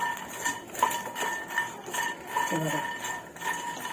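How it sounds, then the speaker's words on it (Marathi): Makhana (fox nuts) dry-roasted in a pan over a low-to-medium gas flame while being stirred, producing light metallic scraping and clinking of a spoon against the pan, close and fairly quiet. "आपण फ्राय करून घेऊया बारीक गॅसवरती लो टू मिडियम फ्लेम ठेवायचे आपण आणि असे चांगले असे कोरडे आपण भाजून घ्यायचे"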